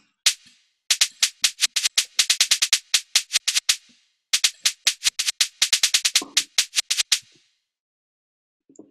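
Rapid, high-velocity snare hits drive an up-tempo drill beat, crisp bright strikes firing in tight rolls and bursts with two short gaps between phrases, loud and close with nothing else around them.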